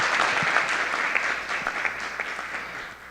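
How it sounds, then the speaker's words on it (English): A round of applause fills a city council meeting, with a steady crowd of clapping hands that thins slightly toward the end. "let's give them a round of applause"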